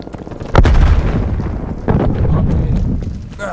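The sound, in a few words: bomb explosion in a video game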